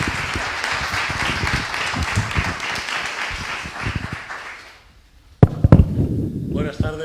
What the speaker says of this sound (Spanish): me gustaría que lo recibiéramos con un fuerte aplauso